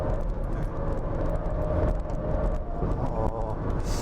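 Jaguar F-Pace SUV driving fast on the Inje race circuit, heard from inside as a steady loud engine and road roar with a slight rise and fall in pitch as it accelerates.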